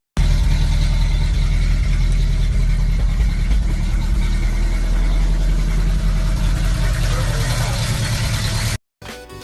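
A Ford Bronco truck engine runs at a steady idle after being started in a driveway in the rain, a loud, continuous low rumble that holds for about nine seconds before cutting off briefly near the end.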